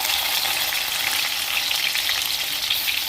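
A large chopped onion hits hot oil in a pan for an ivy gourd masala curry, giving a steady, loud, dense sizzle that holds evenly throughout with no voices.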